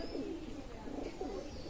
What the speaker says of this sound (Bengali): চমৎকার লেন্স টেডি কবুতর, ডাইরেক্ট ঠোঁট দেখবেন, টিপ দেখবেন, অসাধারণ কবুতর।